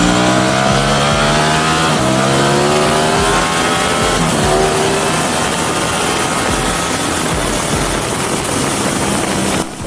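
A 2020 Ducati Streetfighter V4S motorcycle is ridden hard, its engine loud and close, with rising and falling harmonic sweeps as it accelerates and shifts. The sound is continuous and unbroken, with no talking.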